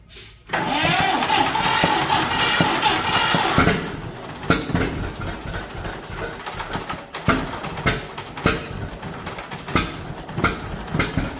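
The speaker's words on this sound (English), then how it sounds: "Love that old Johnny Popper sound." A John Deere Model A tractor with a horizontal two-cylinder engine starts and runs close by, its loud uneven popping beat steady after a sharp start, with no talk over it.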